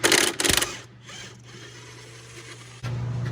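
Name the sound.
removing car shock absorber bolts on Cadillac CTS-V suspension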